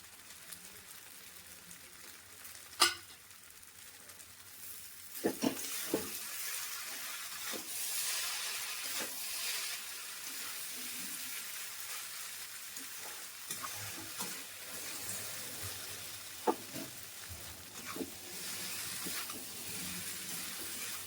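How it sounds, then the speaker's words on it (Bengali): Maggi noodles with masala, tomato ketchup and fried egg are tossed in a hot pan, a soft continuous sizzle broken by scattered spatula scrapes and knocks, no one talking. "এরকম মশলাগুলো দিয়ে এরকম উল্টে পাল্টে ভেজে নেবো"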